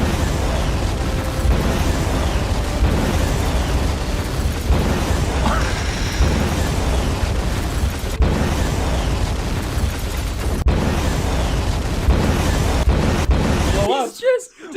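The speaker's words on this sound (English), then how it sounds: "Did he only download one explosion sound effect?" Rumbling explosion effect, a sustained deep roar with bursts of crackle over about fourteen seconds, cutting off abruptly near the end.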